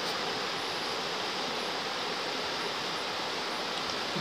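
A river flows steadily, its rushing water a dense, even hiss that stays constant from start to finish with no voices.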